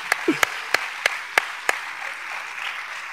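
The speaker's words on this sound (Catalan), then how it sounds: "vull donar-vos un aplaudiment" A few scattered claps from the audience close a round-table discussion on media and society, six sharp separate hand claps at a steady pace, then a quiet room.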